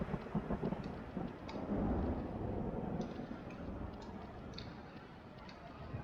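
A tornado storm in the GMOD Vortexfury video game rumbles as a continuous, dense roar like heavy rain and thunder, steady and moderately loud throughout.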